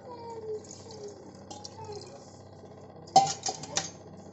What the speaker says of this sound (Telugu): వాటర్ పోసుకోవాలి